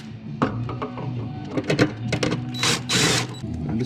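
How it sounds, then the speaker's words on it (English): Jigsaw cutting to enlarge a hole in the metal body of a Nissan 240SX during a turbo install, a loud buzzing, rattling run with uneven bursts that swell toward the end, up close. "I just need to cut here with the jigsaw, make that hole bigger over here."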